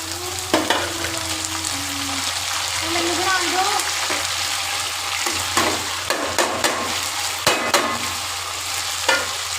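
Onions frying in hot oil in a home kitchen for an okra dish: a loud, continuous sizzle close up, broken by sharp clanks and scrapes of a spoon stirring the pan.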